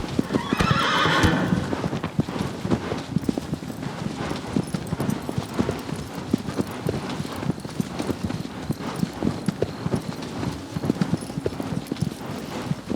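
In Shadow of the Colossus, a horse's hooves clop steadily and loudly at a trot, with a whinny near the start and faint voices underneath.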